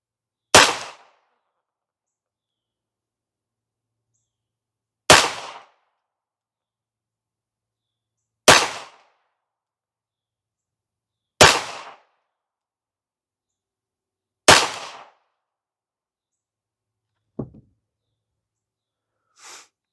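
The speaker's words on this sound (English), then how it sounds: "Let's put 5 rounds downrange, 25 yards, and then we'll go take a look." Five loud, sharp gunshots fired downrange at a 25-yard cardboard target on an outdoor range, evenly spaced by several seconds of silence, each crack close and decaying quickly, followed by faint small clicks.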